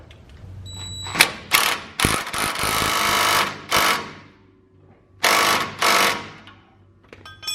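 An impact wrench hammers on a sway bar link nut of a Ford F150, firing in several loud, rattling bursts of varying length separated by short pauses.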